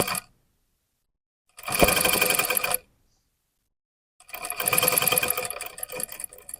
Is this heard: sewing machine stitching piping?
yes